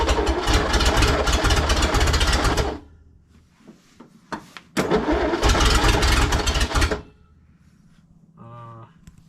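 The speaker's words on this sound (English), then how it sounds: "Starter continued after I let off there" The starter motor of a flooded Studebaker Wagonaire cranks in two loud bursts of a few seconds each, with quieter pauses, small clunks and a brief faint tone between them.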